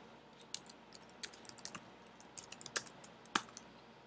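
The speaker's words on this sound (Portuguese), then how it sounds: "vou digitar o meu código JavaScript" Keys clack on a computer keyboard as JavaScript code is typed, a quiet irregular run of close clicks in short bursts with brief pauses between them, with no speech.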